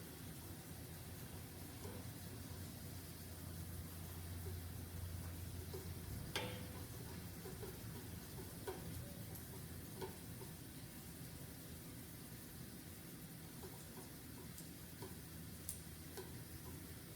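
Garlic frying in oil gives a steady, continuous sizzle with soft crackles throughout, moderately close and with no talking.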